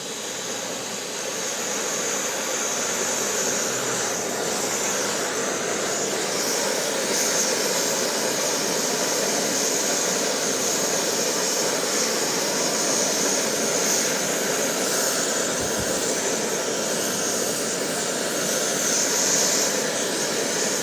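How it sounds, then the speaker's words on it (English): Two camping stoves, a Snow Peak GigaPower and a Primus Eta Express fitted with windscreens, burn at full blast with a loud, steady, unbroken hissing roar that runs unchanged throughout. "These both have their wind screens that come with the stove sets, so we're going to go ahead and crank them up to full blast."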